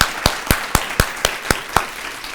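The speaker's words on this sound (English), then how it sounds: "Let's give them all one more round of applause." Applause from an audience at a student speech competition, where a steady wash of clapping runs beneath a few louder, evenly spaced individual claps near the listener that stop after about two seconds.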